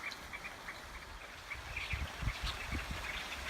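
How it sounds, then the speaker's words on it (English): A flock of birds calls from a tree outdoors, with bright, scattered chirps and tweets repeating throughout over a low rumbling background, moderately close and without speech. "A whole bunch of birds up in this tree here."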